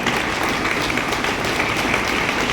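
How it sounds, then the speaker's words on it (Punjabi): Audience applause at a block-level school science exhibition, dense steady clapping from a crowd that continues at even strength throughout, fairly loud and close. "ਉਹਨਾਂ ਦੇ ਨਾਂ ਤੇ ਵੀ ਤਾੜੀ ਮਾਰੋ"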